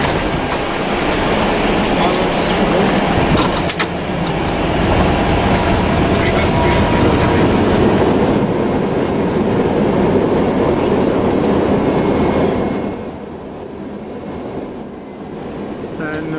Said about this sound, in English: This is almost a picture-perfect landing in an A320.